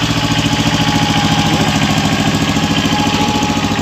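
A tractor engine idles out in an onion field, its steady rhythmic low chugging and mechanical knocking heard close and loud, with no voices over it.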